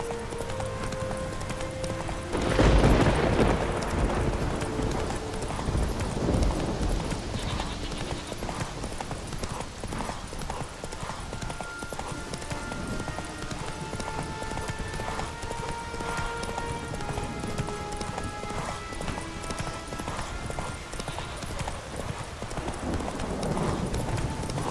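Roach the horse gallops in The Witcher 3 video game, with steady rhythmic hoofbeats running throughout over a soft game ambience and a brief whooshing swell near the start.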